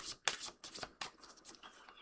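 Tarot oracle cards are shuffled by hand in quick riffling bursts, several rapid flicks and slides in a row, close and crisp with short pauses between.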